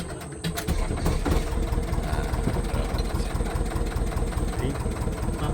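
A fishing trawler's engine drones loud and steady on tidal water as the boat sets off, a continuous low mechanical rumble with no break.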